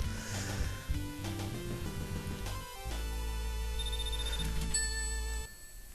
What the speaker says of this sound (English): you actually can turn off the infamous Nico, it's your cousin stuff. By just putting your phone on silent